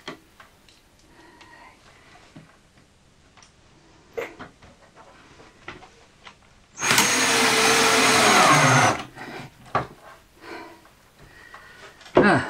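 A power tool whirs loudly for about two seconds while driving screws into a storage build for camping gear, set between quiet knocks and handling noises.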